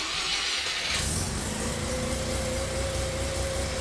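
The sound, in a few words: Mazda RX7 rotary engine starting and idling high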